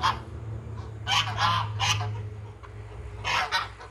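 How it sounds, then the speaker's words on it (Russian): Geese honk in a few loud, separate bursts beside a house under construction, with a steady low hum running underneath. "Гуси."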